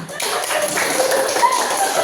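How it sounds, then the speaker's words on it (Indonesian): Teachers and parents in an Indonesian school training session give a short burst of clapping, a soft, busy patter of hands that fills two seconds at moderate volume. "Tepuk tangan lagi kita semua"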